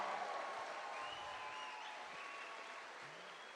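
Sustained applause from a crowd at a political town hall in Bedford County, a steady even wash of clapping at moderate distance that holds for several seconds without a break.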